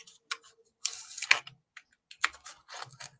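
A craft knife slices through decorative paper during a trimming job: a few close, crisp cutting and scraping strokes in irregular bursts separated by silence.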